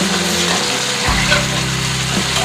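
Mustard hilsa pieces sautéing in a pan and being flipped, a steady close sizzle and crackle of frying with a soft shift as the fish is turned.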